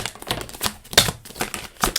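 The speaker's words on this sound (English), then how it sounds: "I should just shuffle all the cards out" Tarot cards shuffled by hand, giving close, irregular papery riffling bursts that come in quick clusters with small gaps, and no talking.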